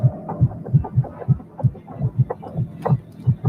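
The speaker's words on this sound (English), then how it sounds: "Hearing the heartbeat and everything" Steady heartbeat sound effect in a Predator fan film, a loud, close, rhythmic double thump repeating roughly every half second with no talk over it.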